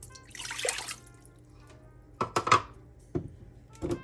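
A cup of water is poured into a pan to start homemade lollipop candy, with splashy liquid bursts and clinks of kitchenware, close by in a quiet kitchen.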